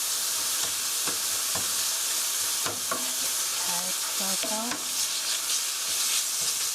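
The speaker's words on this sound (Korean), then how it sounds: "고기가 하얗게 될 때까지 볶아주세요" Ground meat for mapo tofu stir-fries in a hot pan, a constant close sizzle with repeated spatula scrapes and clacks against the pan, no voices.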